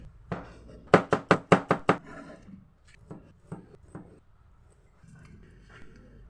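Kitchen knife chopping ingredients for ginataang langka, a quick run of six crisp, close knocks on a board followed by a few slower, softer cuts.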